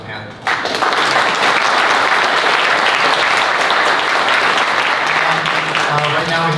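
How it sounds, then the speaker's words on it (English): Loud, dense applause from a conference audience for a panel erupts suddenly and holds steady, a wash of many hands clapping together. "please give our panel a round of applause"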